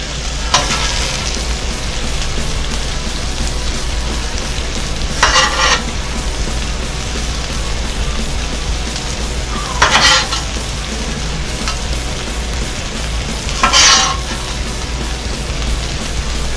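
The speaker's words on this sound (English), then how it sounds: "And then I want to add my mushrooms and jalapenos." Mushrooms and jalapenos fry in a pan with a steady, loud sizzle throughout, broken by three brief scraping stirs spaced several seconds apart.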